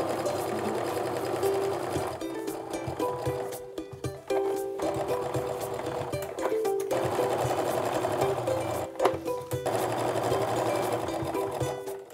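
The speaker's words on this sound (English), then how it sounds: "I'm gonna go ahead and sew my quarter inch seam" Sewing machine stitching a quarter inch seam in quilt fabric, a steady close mechanical whirring hum that stops briefly a few times and restarts, running alone with no talk.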